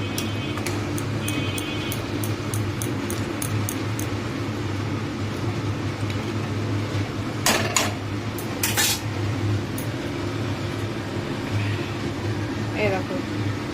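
Fish simmering in a pot of water is stirred, with light metallic clinks and scrapes of a spoon against the pot over a low kitchen hum while a person talks.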